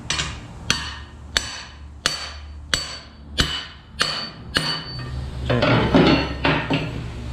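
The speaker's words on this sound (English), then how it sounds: "Get a rod, hammer." Cam bearings being driven out of a 5.7L LS1 engine block with a rod and hammer: about eight sharp, evenly spaced metallic strikes, close and loud, followed by a busier clatter of lighter taps.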